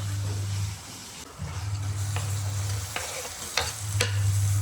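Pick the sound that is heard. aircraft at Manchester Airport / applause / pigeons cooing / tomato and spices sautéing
tomato and spices sautéing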